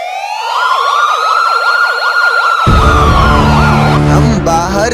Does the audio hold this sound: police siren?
yes